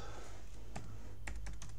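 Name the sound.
typing on a computer keyboard to google something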